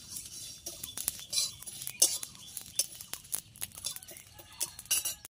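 Spice mix goes into a pot of kuler achar, a sweet jujube pickle, and gets stirred in with a metal spoon, making light, repeated clinks and scrapes against the cookware.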